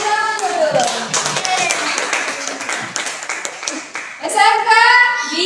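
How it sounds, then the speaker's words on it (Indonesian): Students in a vocational high school classroom clap their hands in a burst of sharp, overlapping claps, with children's voices calling out and cheering over the clapping toward the end. "Tepuk tangan dulu."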